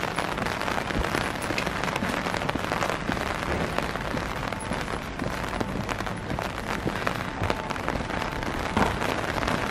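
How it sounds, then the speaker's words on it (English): Rain falls on a London street in Soho, a dense, even patter and hiss with scattered sharper drips and splashes, filling the whole stretch without talk. "It's still raining"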